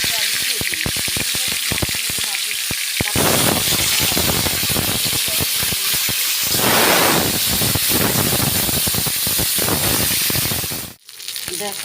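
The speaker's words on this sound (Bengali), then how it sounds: "চলো মাছগুলো ভেজে নেওয়া যাক" Fish heads coated with salt and turmeric fry in hot oil, a loud, close, crackling sizzle that bursts and spatters, swelling to a steady hiss and briefly dropping near the end.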